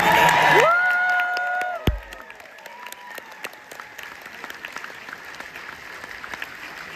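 A convention panel crowd at San Diego Comic-Con claps and cheers after a loud opening burst of whoops and shouts, then settles into scattered applause with sharp individual claps fading lower.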